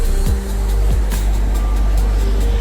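Road traffic on Rivelin Valley Road, heard from the Rivelin Valley trail on a busy morning, with a continuous low roar and several vehicles swishing past in quick succession at moderate distance.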